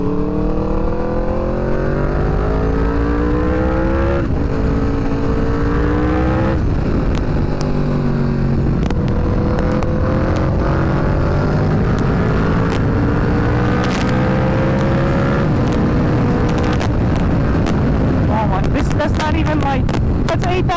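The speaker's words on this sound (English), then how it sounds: "this bike is so loud" A 2021 Aprilia RSV4 motorcycle engine roars loudly while riding, rising and falling through the revs, with heavy wind buffeting the microphone throughout and a voice talking over it.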